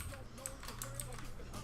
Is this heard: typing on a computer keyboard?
yes